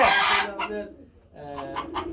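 Four hens and a rooster cluck close by on a farm in repeated short bursts, with a brief quieter gap midway.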